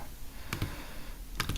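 Typing on a US-layout computer keyboard, a few quiet scattered key clicks in two small bursts over a soft steady room hiss, close by and without talk.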